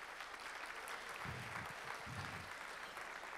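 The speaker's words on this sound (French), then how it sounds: "Je vais vous demander de les applaudir bien fort" Audience at an afternoon stage show applauding two actors, a faint, distant patter of clapping swelling briefly in two short bursts over steady background hiss.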